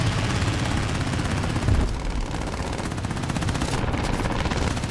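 Rapid machine-gun fire rattles steadily under a droning aircraft engine as a He 51 B-2H biplane takes hits in a War Thunder air arcade dogfight, dense and continuous with no clear gaps.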